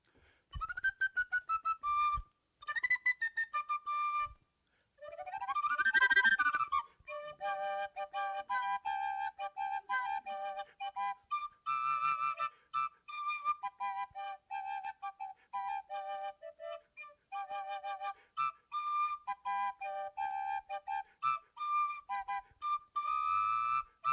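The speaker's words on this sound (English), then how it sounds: "I call them my wedding whistles. On my same penny whistles." Two penny whistles played together in close harmony, with bright, clear melodic lines, quick runs and a rising slide, phrased in short bursts with brief pauses.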